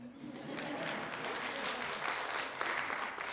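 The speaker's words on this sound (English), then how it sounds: "You may clap for her if you'd like." Audience in a lecture hall claps steadily for a student volunteer, a dense, even wash of applause sustained throughout with no pauses.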